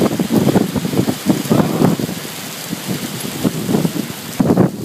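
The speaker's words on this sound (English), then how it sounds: "Hailstorm." Hail pelts the ground and surfaces outdoors in a storm, a dense irregular patter that swells and fades in bursts, with a rumble underneath.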